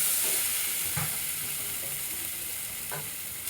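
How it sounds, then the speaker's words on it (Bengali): Spice paste sizzles and fries steadily in a pan for egg do-piaza, with a constant hiss and a couple of soft stirring scrapes, close and fairly loud with no talking. "মশলা ভালো করে কষানো হয়ে গেছে"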